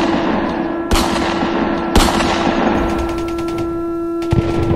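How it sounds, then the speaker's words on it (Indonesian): A pistol fires at a prayer gathering in a sharp series of loud gunshot cracks, with two strong reports and several quicker shots over a steady droning background. "sontak tiba-tiba suara tembakan pistol menembakkan ke arah Presiden Soekarno."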